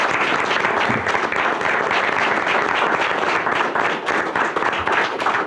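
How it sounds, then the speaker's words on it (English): Dense, steady applause from an audience fills a school board meeting, sustained clapping with no break. "Let's give them another round of applause"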